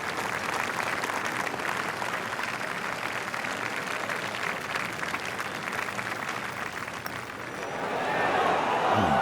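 A golf video game crowd applauds a putt, with sustained clapping that swells near the end while a commentator talks over it.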